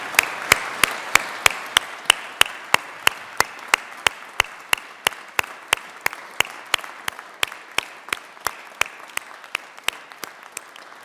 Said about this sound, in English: Please join me in applauding their service.